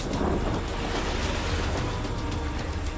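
Ocean waves washing onto a shore, a continuous broadband wash of surf with wind rumble, steady and fairly loud with no voices.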